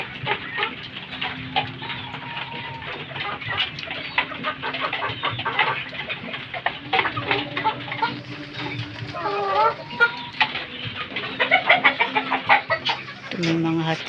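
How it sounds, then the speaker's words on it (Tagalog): Chickens and gamecocks in a small backyard coop during rainy weather: repeated clucks and crowing calls close by, with a person talking over them throughout. "Dito tayo ngayon sa aming munting manukan guys."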